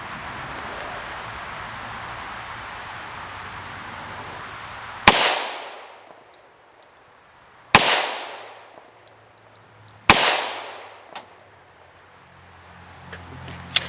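Three sharp, loud 7.62x25 Tokarov pistol shots fired outdoors at a range, each a crisp crack followed by a decaying echo, spaced a few seconds apart after a stretch of steady background hiss.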